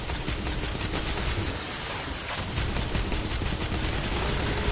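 Gunfire from a weapon in the video game Destiny 2, a dense, continuous barrage of rapid shots that stays loud and steady for the whole stretch, with no talking.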